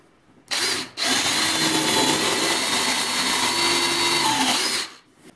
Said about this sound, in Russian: Сверлим.